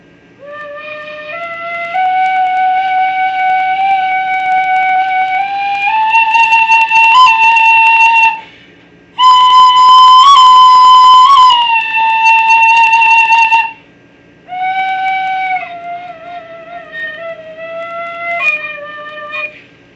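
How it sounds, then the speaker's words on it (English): A tin whistle plays a slow, wavering melody of sustained bright notes, close and loud, with two short pauses between phrases. "This time, I took up the tin whistle."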